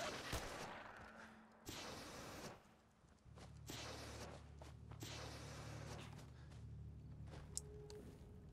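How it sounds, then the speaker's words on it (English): Bursts of gunfire in the Horizon video game, sharp reports and rapid volleys over a low steady hum, with a loud isolated shot near the end. "And I'm also hearing gunshots down here."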